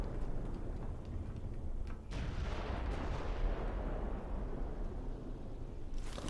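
Artillery fire in Ghost Recon Future Soldier, with heavy booming blasts and rolling rumble under dense battlefield noise, a sharp impact near the two-second mark and more bursts following.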